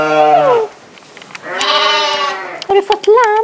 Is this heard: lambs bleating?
yes